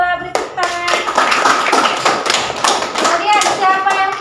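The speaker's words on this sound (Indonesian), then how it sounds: "Terima kasih untuk Lola, beri tepuk tangan." A classroom full of children claps in quick, uneven bursts, close and lively, with voices chattering and calling out over the applause.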